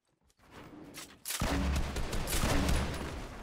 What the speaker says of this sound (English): Oh man, this is a grenade launcher.